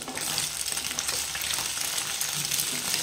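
Loud, continuous sizzling and crackling from a pan fry for egg fried rice, holding steady and close throughout with faint stirring.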